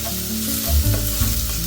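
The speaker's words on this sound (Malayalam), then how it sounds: "ഇച്ചിരി വേപ്പിലും കൂടി ഇട്ടിട്ട് നന്നായിട്ട് ആ പച്ചമണം പോണ വരെ ഒന്ന് വഴറ്റിയെടുക്കുക" Curry leaves and spices sautéing in a hot pan, a loud close sizzle with scraping stirs and a few low thumps of the spoon against the pan.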